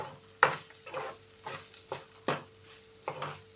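A spoon scrapes and stirs okra fry with garlic and chili powder in a pan, six or seven distinct strokes with soft sizzling between them, close and moderately quiet, with no talk.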